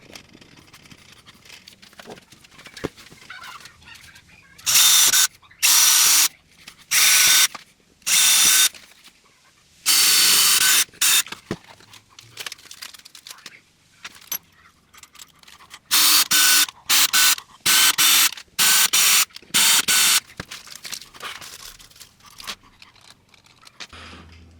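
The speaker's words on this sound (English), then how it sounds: "We'll drill the aluminum, and then I will run the tap tool through, and we will put our hardware in," A power drill bores holes in aluminum for a custom PC case, with a tap run through for hardware: repeated loud, close bursts of whirring drilling, separated by short gaps of quiet handling.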